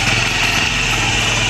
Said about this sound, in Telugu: Let's start my bike.